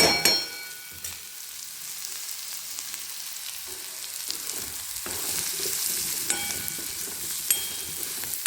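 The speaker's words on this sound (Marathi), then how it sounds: "आता हे चांगले भाजून घेते" Onions for a samosa filling roast in a pan, with a continuous sizzle and occasional stirring taps and scrapes, heard up close and with no voices.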